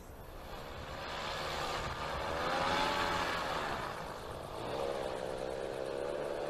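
A motorized paraglider's buzzing propeller engine drones overhead, swelling louder as it passes and then settling into a steady hum, with no talking.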